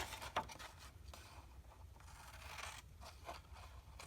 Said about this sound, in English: And then we'll cut this part off over here as well.